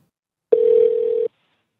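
A call to a Twilio phone number connects with a single steady electronic tone lasting under a second, abrupt and clear in otherwise silence.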